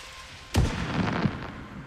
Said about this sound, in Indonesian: Kok jadi ngeluarin kembang api